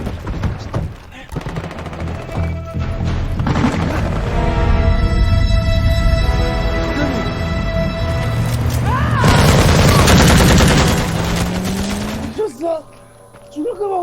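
Bursts of gunfire in a Korean action film's car chase, loud and dense over a heavy rumbling action mix, with voices shouting in between.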